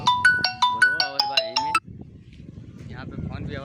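A phone ringtone plays a bright repeating melodic pattern for under two seconds, then cuts off into low background murmur and faint voices.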